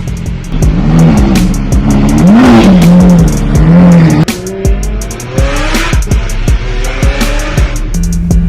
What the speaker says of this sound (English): it was his dream to go for a ride in the Lambo